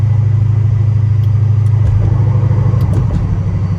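Supercharged Dodge Magnum engine idling with its exhaust cutouts open, a loud, close, steady low rumble that wavers slightly toward the end.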